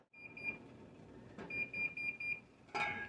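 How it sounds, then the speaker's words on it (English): A homebrewing timer alarm beeps in rapid repeated bursts, two clusters of steady high-pitched electronic tones separated by a short pause, fairly loud and alone, with a brief clatter at the end. "set a timer for 2 minutes"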